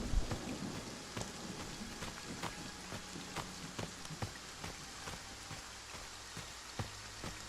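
Heavy rain pouring down suddenly, a steady hiss with scattered sharp drops and taps striking a surface close by, fairly faint, with no talk.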